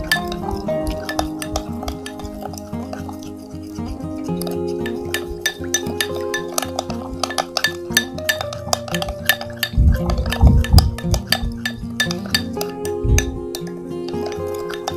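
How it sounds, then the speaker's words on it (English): Salt mixture stirred in a glass bowl, giving steady close clinks and scraping taps of a utensil against glass, with a louder cluster of knocks partway through. "Mix it well until the salt will dissolve completely."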